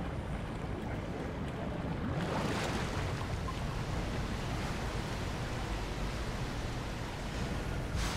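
Water draining in the game Soma: a steady, rushing wash of noise that swells in strongly after a quieter opening and then holds as a constant broad roar, like water pouring away through a flooded space.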